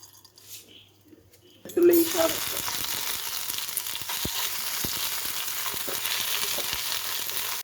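Mustard seeds sputtering in hot oil in a home kitchen, a quiet pause giving way to a loud, steady sizzle dotted with sharp pops and crackles, with a voice speaking briefly at first.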